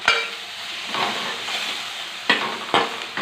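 Onions and green chillies fry in a pan with curry leaves and ginger paste, giving a steady close sizzle broken by a few sharp scrapes of stirring.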